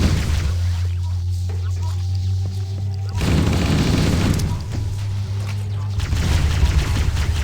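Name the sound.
gunfire in the Halo CE Anniversary video game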